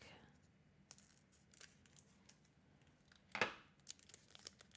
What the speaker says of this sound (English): open the fourth pack.